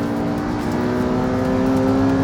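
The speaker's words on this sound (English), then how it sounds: "918 is 4-wheel drive, so it gets off the line better." A four-wheel-drive Porsche 918 launches off the start line in a car-versus-bike race, its engine a loud, steady, close roar that builds slightly in pitch throughout.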